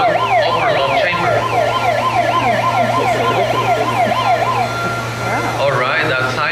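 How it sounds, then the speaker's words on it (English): A loud warbling Panama Canal lock gate warning siren, signalling gate displacement, wails continuously in a fast up-and-down pattern over a steady low hum, shifting to a quicker yelp near the end. "that siren that we just heard is a warning indicating gate displacement"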